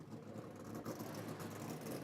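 NASCAR Sprint Cup Series race car engines at Pocono Raceway idle and rumble together as a steady, mid-distance drone with a faint whir, no voices over it.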